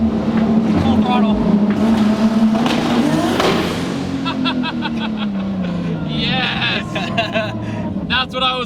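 A Nissan 240SX S14 built to about 800 horsepower pulls hard at full throttle, its engine note loud and close and sweeping upward through a gear change, with excited voices over the roar.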